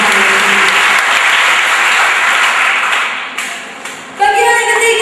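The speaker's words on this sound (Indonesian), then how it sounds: "Mari kita berikan tepuk tangan bagi Tuhan." Church congregation applauding during a Sunday service, a loud, sustained wash of many hands clapping that tapers off near the end.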